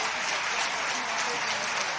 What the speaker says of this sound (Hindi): जरा बाहर के लोग तालियां बजा दीजिएगा।